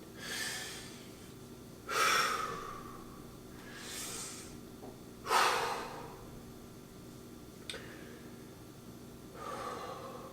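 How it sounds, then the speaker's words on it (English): Deep, forceful breaths during a home legs-and-shoulders workout, about five loud exhales and inhales spaced roughly two seconds apart, close and clear over a quiet room hum. "Down. Deep breathing."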